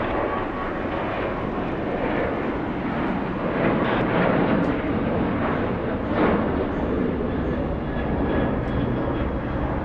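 An American Airlines plane takes off from runway 25 right at LAX, its engines giving a loud, continuous, broad roar that holds steady and swells slightly over ten seconds.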